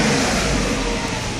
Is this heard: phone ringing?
no